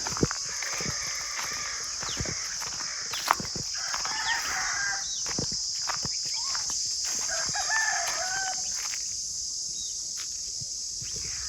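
Free-range country chickens clucking and a rooster crowing amid a busy farmyard, with wings flapping and a constant high buzzing of insects in the background.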